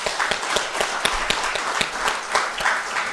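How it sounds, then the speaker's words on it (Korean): Congregation in a church applauding during a Sunday morning worship service, a dense wash of many hands with sharper individual claps standing out, steady and fairly loud throughout with no talking. "큰 박수로 영광 올려드리겠습니다"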